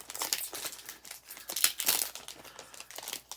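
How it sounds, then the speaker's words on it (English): Foil booster packs for the Doomlings card game, Legends of Endras edition, are torn open up close, giving a busy run of crinkling and ripping foil bursts with no pauses. "Tear all these open."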